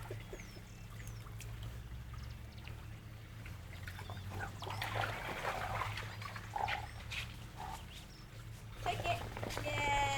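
Dogs wade and splash through a gravel-bottomed organic pool, giving irregular sloshing and dripping bursts that grow busier midway and near the end, over a low steady hum, with a voice faintly heard.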